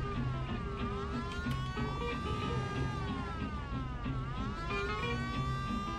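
Police sirens in Mafia: The City of Lost Heaven sweep up and down steadily, a few overlapping wails layered over city traffic and engine noise, sustained and prominent throughout.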